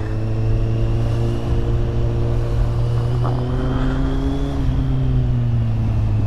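Steady, loud engine drone from a black Kawasaki Z800 motorcycle riding through São Paulo traffic, with a constant low hum and slowly shifting tones, no voices heard.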